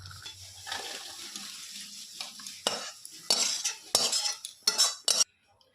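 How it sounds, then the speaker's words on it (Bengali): Cooked chana dal with coconut being scraped out of a pressure cooker into a bowl: quiet rustling at first, then a run of louder metallic scrapes and clatters that come in short, uneven bursts. "এবার আমি একটা পাত্রে নামিয়ে নেব।"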